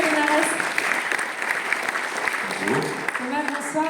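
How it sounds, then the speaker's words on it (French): Steady applause from an audience at a Paris Games Week press conference fills the space, dense clapping that carries on throughout with a few voices faintly mixed in. "On peut l'applaudir, il vient de nous rejoindre sur scène, Thomas Linares."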